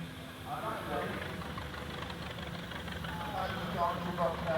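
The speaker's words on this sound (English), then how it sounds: "The Minneapolis truck motor, you can see the engine down the truckways on this" A Minneapolis truck engine runs at the Shrewsbury steam rally, a steady, moderately distant low idling rumble with a faint knock under outdoor crowd noise.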